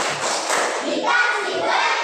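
Classroom group of teachers clapping during an academic supervision coaching session, a fairly loud, dense, steady clatter of many hands that stays even throughout, with no talk over it.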